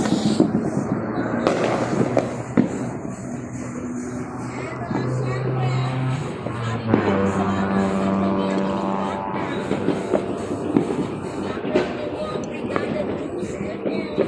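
New Year's Eve fireworks crackle and pop in scattered bursts at a distance near midnight, heard from up high, with a hum of engines underneath as people chat nearby.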